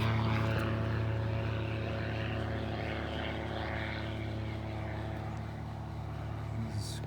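Steady, loud droning hum of a propeller plane overhead, holding a constant low pitch and fading slightly toward the end.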